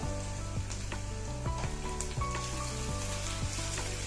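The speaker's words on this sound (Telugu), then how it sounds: "ఇప్పుడు ఈ పచ్చి మామిడికాయ తురుము కూడా వేగిందండి నూనె పైకి తేలుతుంది అదే సారీ నెయ్యి పైకి తేలుతుంది" Grated raw mango fries in ghee, making a continuous close sizzle that holds at an even level throughout, with faint tonal sounds running underneath and no speech.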